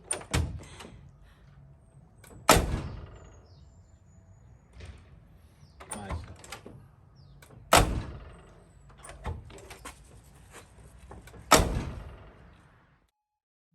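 A Chevy/GMC Squarebody truck door, fitted with a new striker bolt, slams shut four times, each a loud, sharp thud spaced a few seconds apart, with faint clicks and handling noises in between.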